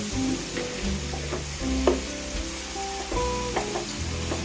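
French fries frying in hot oil, a continuous crackling sizzle with light bubbling and a few stirring knocks, close and moderately loud, with no speech.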